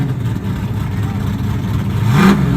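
An LS V8 race car on a drag strip revs hard, a loud sustained engine roar that builds toward the end, with a voice talking over it.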